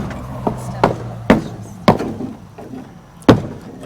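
Several heavy blows pound on the old wooden front door of an abandoned general store, five loud knocks spaced irregularly over a low background hum.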